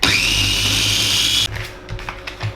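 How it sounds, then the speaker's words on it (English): Small mini blender grinding mushrooms into paste, a loud close high motor whir for about a second and a half, then stops abruptly, followed by a few faint knocks and rustles. "we need to get these into a real paste. So easiest way of doing that is to get them into this little mini blender"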